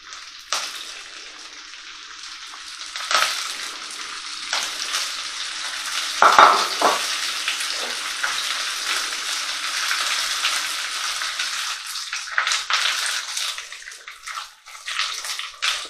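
Lettuce quarters frying in hot oil while cooking a Sicilian roast chicken, a steady loud sizzle with crackling bursts and brief louder spatters partway through, no talking.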